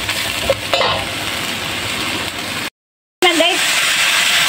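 Meat sautéing for green chili con carne sizzles and hisses steadily in a pan, with stirring scrapes and a brief clink, close-up; a short silent gap breaks it before the frying resumes, and a voice speaks briefly.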